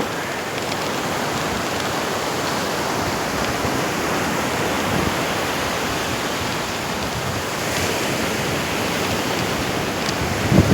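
Sea waves at Tannirbhavi beach in Mangalore wash in as a steady, loud broadband roar of surf, continuous and unbroken throughout with no voices over it.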